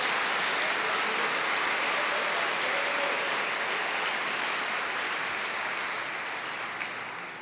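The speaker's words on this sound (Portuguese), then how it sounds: "Pode aplaudir o Senhor?" A church congregation applauding, a dense, even wash of many hands clapping that holds steady for several seconds before tapering slightly at the end.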